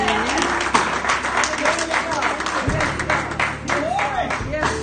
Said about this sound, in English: Give God a big hand clap of praise.